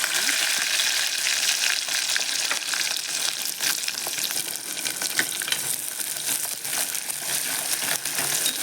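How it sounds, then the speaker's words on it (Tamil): Sliced shallots, garlic and three green chilies fry in a pan with a dense, crackling sizzle that stays loud throughout, mixed with light rustling and stirring; no voices. "நல்லா வெங்காயம் வதங்கிடுச்சு."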